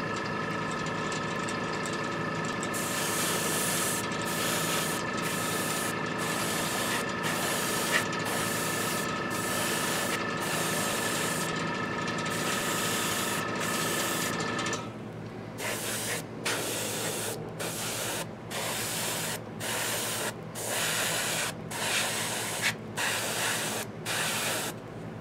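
An airbrush sprays a thin base coat of paint onto a miniature, a steady close hiss that runs without a break and is broken by short, regular gaps where the trigger is released.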